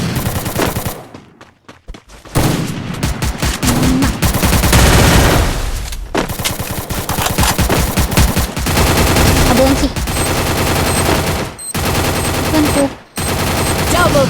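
Rapid automatic gunfire from the video game Free Fire, loud dense bursts and volleys filling most of the clip with brief pauses between, a few short breaks of near silence, and a voice speaking among the shots.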